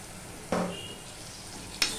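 Sour yogurt hits a hot frying pan for an onion- and garlic-free curry, giving a short sharp sizzle that fades, then a second brief hiss near the end.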